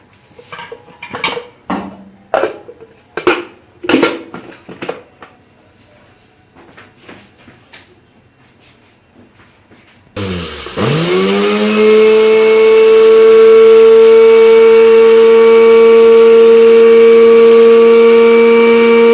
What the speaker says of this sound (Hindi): अचार बनाने के लिए जो मसाले हमने लिए थे, आइए अब उनको चॉपर में डालकर ग्राइंड करते हैं।